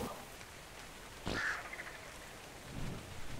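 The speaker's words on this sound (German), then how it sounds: "Na gut, es regnet perfekt." Rain falls steadily in ARK: Survival Evolved while a sudden crack of thunder bursts through the downpour, with the shower swelling again shortly after.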